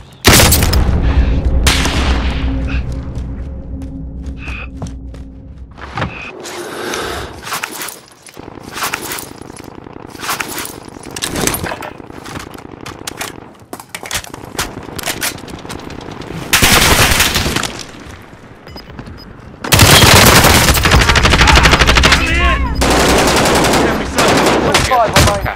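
Call of Duty: Modern Warfare battle with heavy gunfire: rapid automatic bursts, single shots and booming blasts run continuously and loudly throughout, with brief voices mixed in.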